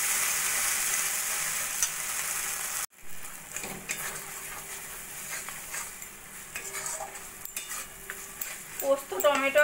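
A masala paste of poppy seed, tomato, cashew and green chilli fries in oil for a katla fish curry, first as a loud hiss, then after an abrupt drop a quieter sizzle marked by spoon scrapes and clinks.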